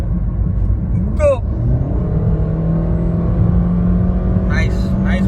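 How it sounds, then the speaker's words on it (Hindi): A Maruti Alto car engine hums steadily as it revs and gradually rises in pitch, with a persistent low drone throughout and brief squeaky sounds over it. "तो थोड़ा रेव करें आज, मज़ा आएगा ना।"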